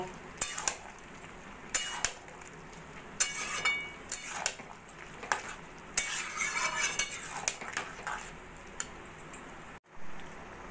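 Jackfruit curry with sugar and garam masala being stirred in a pan, a utensil scraping and tapping the metal in repeated bursts over faint sizzling, close by and without talk.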